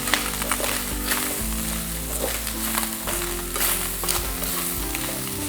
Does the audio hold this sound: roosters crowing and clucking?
no